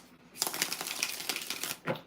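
A deck of tarot cards is shuffled in a dense, riffling burst lasting over a second, followed by a short final flick, close by and fairly loud with no talk.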